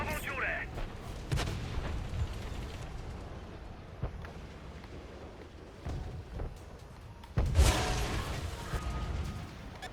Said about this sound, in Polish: Czy on tu do mnie strzela?